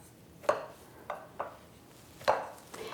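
A spoon works powdered sugar into butter in a bowl by hand, giving four or five separate scraping knocks at uneven intervals, close and fairly quiet.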